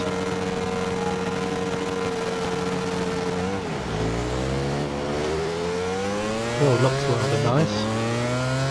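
A motorcycle engine racing around the Mugello GP circuit in a video game, steady high revs with pitch sweeps as it shifts and brakes, while someone talks briefly over it.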